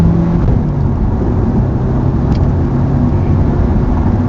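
A car engine roars steadily at close range, a loud low rumble that hums on without pause.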